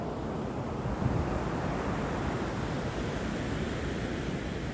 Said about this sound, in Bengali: আর এইখানে হচ্ছে সমুদ্র